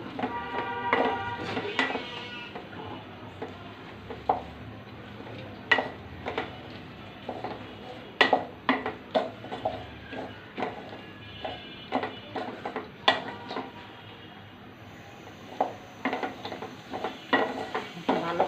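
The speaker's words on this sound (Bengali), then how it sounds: "আমি তেলের উপরে ডালটা কিছুক্ষণ বেজে নেব" Lentils stirred and fried in oil in a pan for dal bhuna, with a soft low sizzle under repeated sharp scraping and clinking of a spoon against metal, close and irregular throughout.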